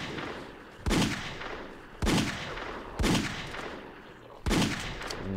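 Four loud, evenly spaced pistol shots from a Desert Eagle in Halo Custom Edition, each a sharp crack with a short ringing tail, fired about a second apart over a steady game ambience.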